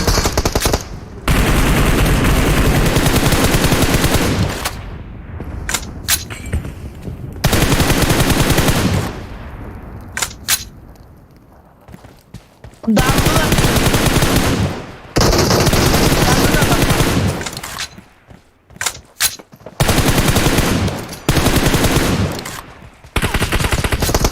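Sustained bursts of automatic machine-gun fire in the battle-royale shooter PUBG Mobile, long loud volleys separated by short pauses and a few single shots, with players talking in between.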